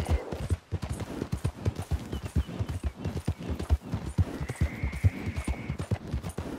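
Horse hooves galloping at a sprint in Red Dead Redemption 2, a rapid, steady clip-clop rhythm running throughout at close range, with a brief higher tone partway through.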